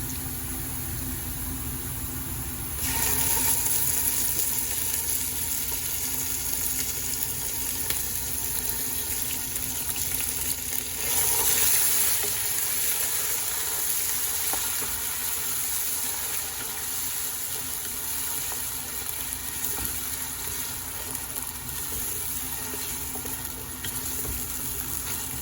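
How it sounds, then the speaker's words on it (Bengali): Sliced onions frying in oil and ghee with cinnamon, cardamom and bay leaf, a steady, close hissing sizzle that swells briefly at moments and continues unbroken with no talking. "আমি তেল দিছি, ঘি দিছি, দিয়ে আমি পেঁয়াজ আমি দিলাইছি, আর এর লগে ডালচিনি, এলাচ, তেজপাতা সকল তো আমি দিলাইছি"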